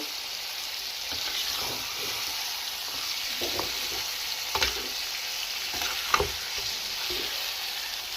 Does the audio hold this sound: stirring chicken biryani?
yes